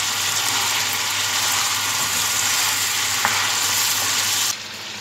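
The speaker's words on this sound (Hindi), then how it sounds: "चिकन हमारा फ्राई हो रहा है, इसे हल्की आंच पर हम फ्राई कर लेते हैं" Chicken pieces frying on low heat in a karahi, giving a steady, loud, even sizzle that continues without pause. Near the end it drops sharply to a quieter hiss, and no voices are heard.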